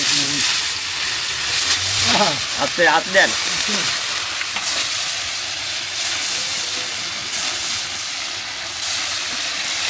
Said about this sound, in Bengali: ওই জন্য তো মাছ ভাজা হচ্ছে